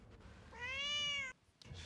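A cat gives one clear, drawn-out meow close by, rising and falling over about a second against quiet background.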